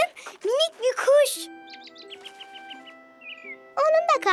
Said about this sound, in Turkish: Aa, bakın minik bir kuş.